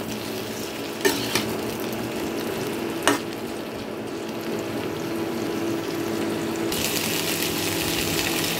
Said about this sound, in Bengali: এখন এই বেগুন টমেটোটাকেও এই আলু আর সজনে ডাঁটার সাথে ভালো করে একটু ভেজে নেব